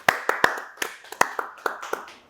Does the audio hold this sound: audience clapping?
yes